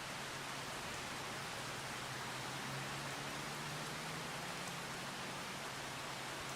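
Steady rain falling in Farming Simulator 25: a constant soft hiss of rainfall, faint and unbroken, with no talk.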